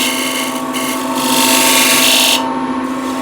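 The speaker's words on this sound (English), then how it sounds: "And I'll just clean up this very corner with the skew." A skew chisel cleans up a corner on a spinning workpiece on a woodturning lathe, a loud continuous whine and hiss of the tool cutting wood with a steady motor hum underneath.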